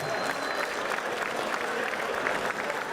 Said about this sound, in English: Can we please have a big round of applause for Kane?